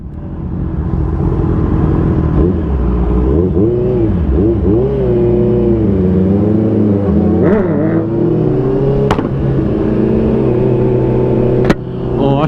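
Loud engine exhaust revs up and down repeatedly, the note rising and falling close by, with a couple of sharp clicks near the end and no talking.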